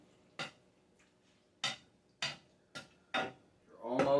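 Milk gets mashed and stirred into food in a pot: five sharp, separate clinks and scrapes of a utensil against the pot, spaced about a second apart, then a longer rough scraping stir at the end.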